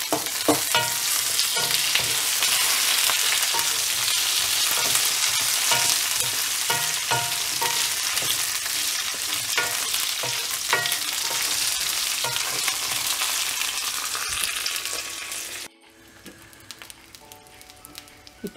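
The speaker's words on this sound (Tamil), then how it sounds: "கத்திரிக்காய் எண்ணெயில் வதங்கிட்டு இருக்கும்போதே நம்ம இதில் கருவேப்பிலை ஆட் பண்ணிடலாம்." Eggplant sizzles steadily in hot oil with curry leaves added, a dense continuous frying hiss with occasional stirring clicks, loud and close, then abruptly drops to a quieter simmer near the end.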